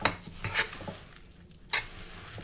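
Peanut butter cookie dough for healthy Christmas cookies is being mixed in a bowl, with a few soft scraping strokes and a sharp utensil clink near the end, close and fairly quiet.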